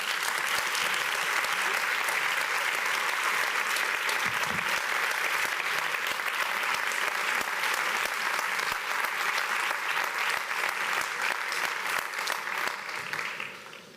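Steady applause from a sizable crowd at a book presentation fills the whole stretch, dense and even, tapering slightly at the end.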